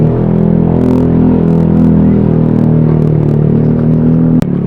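An Easyride 150fi motorcycle fitted with an Akrapovic exhaust pipe is ridden at low speed, giving a steady, loud, close engine rumble and whir with faint clatter. No one talks over it.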